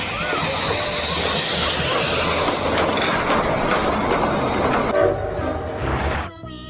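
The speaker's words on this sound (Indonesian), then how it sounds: "lihat sudah kereta api lagi berputar" A toy train runs around its track with a steady, dense mechanical clatter and whir that fills the scene, then drops away near the end.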